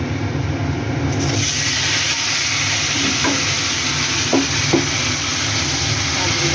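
Hot oil sizzles in a wok as fish fry, a loud constant crackle with a few sharp clicks, and no talking.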